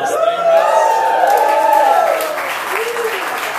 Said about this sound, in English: can we just get a big applause?